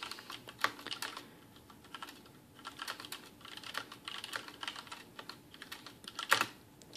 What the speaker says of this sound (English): And this is Cherry MX Black, so I'm going to type lightly without bottoming out.